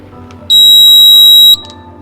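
An RVLock electronic door lock, being installed on an RV with an Allen wrench, gives one loud, sustained high-pitched beep lasting about a second, close and alone.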